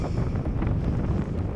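Strong, steady wind buffets the microphone as a bicycle rides along the beach past beach huts at Littlehampton, giving a loud, continuous roar and rumble with no talking.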